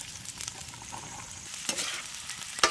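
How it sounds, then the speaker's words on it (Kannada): Garlic and finely chopped onion fry in oil in a pan for a village-style mutton blood fry, a soft steady sizzle with a few louder crackles and stirring scrapes, close and fairly quiet. "ಬೆಳ್ಳುಳ್ಳಿ, ಸಣ್ಣಗೆ ಹಚ್ಕೊಂಡಿರೋ ಈರುಳ್ಳಿ ಹಾಕ್ತಿದ್ದೀವಿ."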